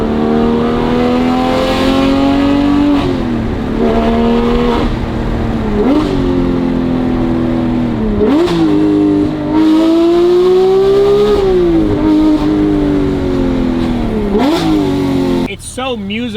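Porsche 991.2 GT3 with a 4.0 engine and titanium exhaust, valves open, accelerates repeatedly with a loud, rising howl that drops sharply at each gear change, ending in a crackle; an engine note that dominates throughout.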